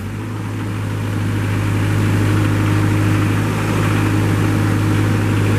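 A 2014 Moffett M55 truck-mounted forklift with its engine running, a loud steady close drone with a deep hum and constant rumble, growing slightly louder early on and holding even, no talking.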